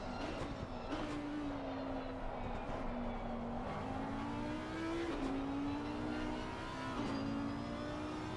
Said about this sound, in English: screams that second gear there, shifted a bit low.